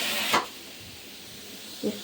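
A pressure cooker cooking dal releases two short bursts of steam hiss, a sharp loud one near the start and a softer one at the end, over a steady low background.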